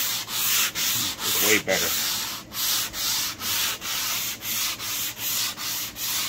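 Sandpaper rubs back and forth across oak wood being prepared for painting, producing regular rasping strokes about twice a second, close and steady, with a brief spoken remark partway through.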